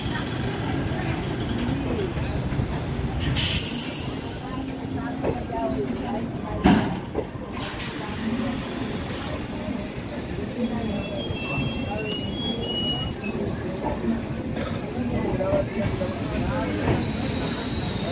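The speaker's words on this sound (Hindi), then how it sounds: "गाइस हमारी ट्रेन का डिपार्चर हो चुका है, तो आप लोग देख लीजिए डिपार्चर।" The Doon Express pulling out of a junction, a steady rumble of rolling carriages with clanks and a brief squeal, heard from on board with people talking.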